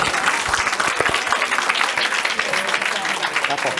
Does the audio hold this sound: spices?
no